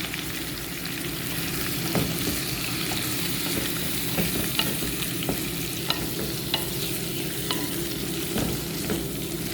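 Shrimp fry in buttered garlic for a spicy dish, with a steady close sizzle and the frequent scrape and clatter of stirring, and no talking.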